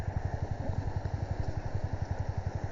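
A motorcycle engine runs nearby at a steady idle, a low rhythmic chugging pulse repeating evenly throughout with a faint mechanical clatter over it, and no one speaking.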